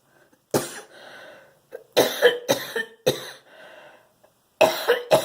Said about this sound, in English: I haven't been coughing, but when I start, I can't seem to stop